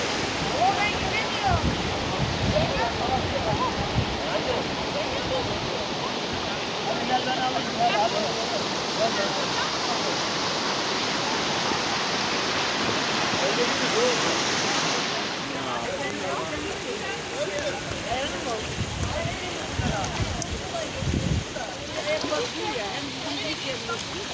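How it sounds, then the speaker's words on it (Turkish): The Göksu soda river pours over the travertine terraces at Dereli, Giresun, a steady, full rush of water throughout that softens slightly midway, with voices faintly present under the flow. "Karadeniz'de tek sodalı akan ırmak burası"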